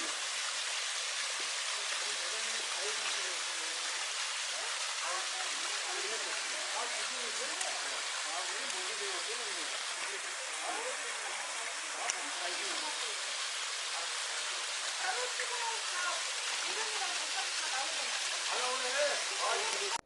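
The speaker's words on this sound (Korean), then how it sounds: "폭포물이 쫙 흘러내립니다." Sulak waterfall pours down on Daedunsan mountain in Wanju, Jeollabuk-do, making a constant, dense, hissing rush of falling water that stays loud and unbroken throughout.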